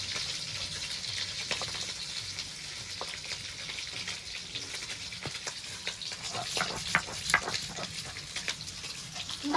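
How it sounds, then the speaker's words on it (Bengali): Pieces of rita fish frying in oil in a pan, a continuous close sizzle with bubbling and occasional scraping stirs and crackles, no speech. "মাছগুলো আমার ভাজা হয়ে গেছে, এবার তুলে নেব।"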